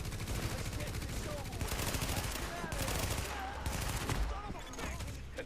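Gunfire in Tom Clancy's The Division, with dense, loud bursts of rapid automatic shots and scattered single rounds layered over a combat soundscape, with voices speaking in the background.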